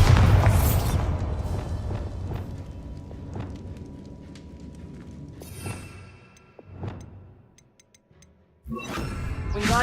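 A heavy Bombarda spell explosion in Hogwarts Legacy booms loudly, then several smaller thuds and crackles follow before another strong blast swells at the end.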